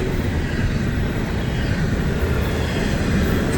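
An intermodal freight train carrying trailers rolls past with a loud, continuous, broadband rumble and clatter that holds steady throughout.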